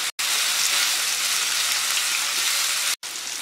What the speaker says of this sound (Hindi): आइए अब बॉईल की हुई हम सारी सब्जी डाल देंगे और सब्जी को हम 2 से 3 मिनट इसे अच्छी तरह से फ्राई करेंगे